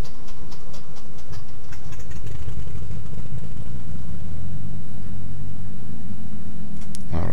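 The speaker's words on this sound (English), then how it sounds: "we're cranking up right engine" In a flight simulator, an aircraft's right engine starts up while the left engine already runs, building into a loud, steady rumbling drone that fills the cockpit, with no talk.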